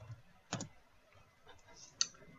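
A few sparse, quiet clicks from a computer keyboard and mouse while typing a search, with two sharper taps standing out against a faint background.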